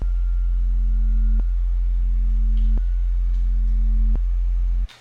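Sustained synth bass patch made in Serum, three long held notes each starting with a small click from an unshaped attack, loud and steady, ending abruptly, with no voices.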